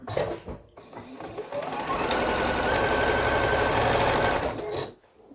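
A sewing machine chain-pieces quilt sashing in a fast, steady needle rattle that runs for several seconds, starts after a brief pause and stops abruptly near the end, close and loud with no speech.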